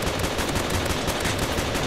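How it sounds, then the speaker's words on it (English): Machine guns rattle in a war simulator video game, a dense, loud, unbroken burst of rapid automatic fire that fills the whole moment with no talking. "Okay, my machine guns are way better than their machine guns."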